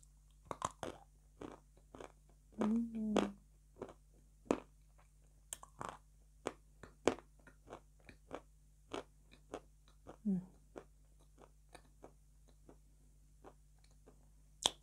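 Close, crunchy chewing and biting of food at an evening dinner, with irregular clicky mouth sounds spread across a quiet room and a brief murmur of voice.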